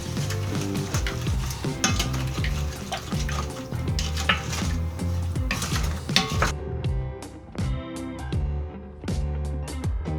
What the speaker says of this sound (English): you're just gonna go ahead and stir it up.